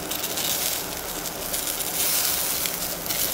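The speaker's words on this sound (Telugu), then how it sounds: "వేసి ఫ్రై అవ్వాలండి." Garlic cloves, onion and tomato pieces frying in a pan for a chana dal chutney, a dense, steady hiss and crackle of oil that continues without pause.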